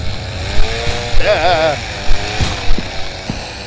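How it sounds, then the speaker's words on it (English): A chainsaw from the horror game Chainsaw Janitor snarls and revs with a wavering buzzing tone, loud and near, while a player shouts briefly and thuds sound alongside. "I'm not sure how strong the chainsaw is, and I don't want to find out."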